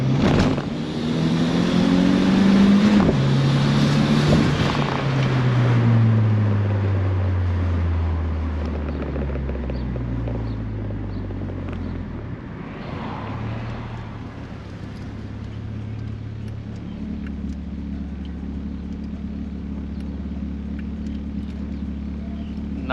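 A 1994 Nissan Sentra with a 1.6 turbo engine and an open exhaust cutout revs loudly up through the gears, its pitch falling with each shift before settling into a steady, deep idle drone.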